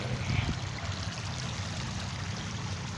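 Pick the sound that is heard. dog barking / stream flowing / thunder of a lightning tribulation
stream flowing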